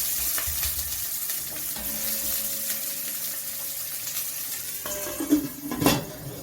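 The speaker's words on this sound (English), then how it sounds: "So my oil is heated. I'll go ahead and add my onions. I'll add my onions, stir." Onions frying in hot oil in a pot, a steady close sizzle with stirring, ending in a few louder clanks of a utensil against the pot.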